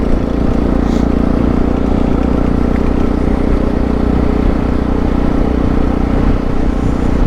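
Motorcycles cruising along a road on a weekend road trip, a loud, steady engine and wind roar droning without letup throughout, no voices.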